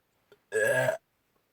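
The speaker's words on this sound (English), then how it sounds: "Good burp." A single loud, close burp lasting about half a second, preceded by a faint click and followed by silence.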